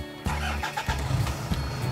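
A Toyota Fortuner with an automatic transmission is started after a gear cable repair: a short crank catches quickly into a loud, close engine roar that settles into a rough idle.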